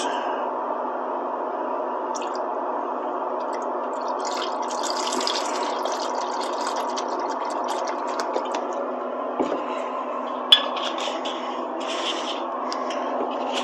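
Film developer is poured into a measuring container, a soft continuous liquid trickle with faint drips and small plastic knocks, quiet and close, with no talking.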